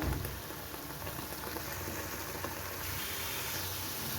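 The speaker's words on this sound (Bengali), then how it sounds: "টমেটোটাকে আমি পাঁচ থেকে সাত মিনিট এইভাবে কষাবো" Tomatoes cooking down in a pan for a sweet tomato chutney with dates and mango leather give a steady, even bubbling sizzle close by, continuous throughout with no talking.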